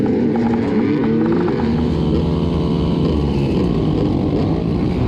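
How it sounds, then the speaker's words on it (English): A 1954 Triumph Tiger motorcycle racing at Glen Helen Raceway, its engine loud and close with a steady droning roar and shifting revs throughout, as if heard from on board. "I'm about to take part in a frigging race on a 54 Triumph."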